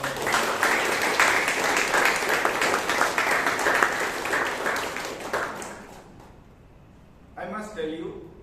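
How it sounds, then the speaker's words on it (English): Audience applause at a Toastmasters club meeting in Bangalore, a steady roomful of clapping lasting about five seconds before fading out, followed by a brief voice. "For both the evaluator and the speaker, please give a huge round of applause"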